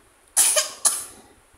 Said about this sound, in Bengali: কাশি আসতেছে?